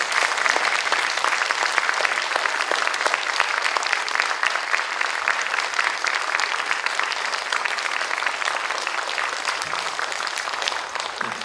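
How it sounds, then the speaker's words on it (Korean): Audience at a children's composition recital giving the performers sustained, dense applause, many hands clapping loudly and evenly throughout with no talk over it. "지금까지 총 28곡의 곡들을 연주해주신 연주자분들에게 다시 한번 큰 박수"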